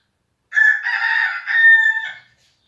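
A rooster crows once in a long, drawn-out cock-a-doodle-doo, loud and close, standing alone against silence.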